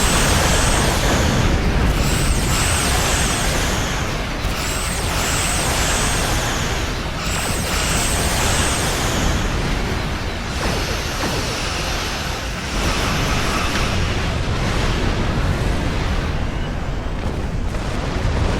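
Starship weapons fire and explosions from the video game Star Trek Online roar continuously and loudly, a dense wall of booming blasts and rumble with periodic whooshing pulses and no voices.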